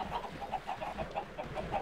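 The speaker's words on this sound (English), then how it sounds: "those chickens should be laying eggs." Chickens clucking in a video game farm where the birds sit above a pressure plate under a chicken drop, a steady run of short repeated clucks at moderate volume with no talk over them.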